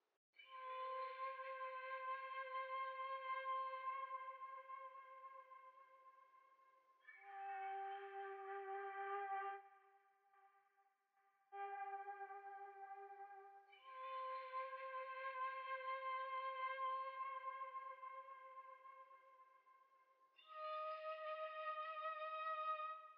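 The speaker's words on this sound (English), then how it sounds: "Next thing I added was these flutes that just follow the bass notes." Breathy flute lines following the bass notes in a dark beat, long sustained tones in short phrases separated by pauses, fairly quiet and dry, with no voices.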